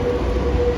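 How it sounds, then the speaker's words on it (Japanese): A steady, loud rumble of a two-car Nankai 2000 series electric train running along the tracks in Osaka, continuous and close, with no voices. "現在は2両編成の電車が行ったり来たりしています。"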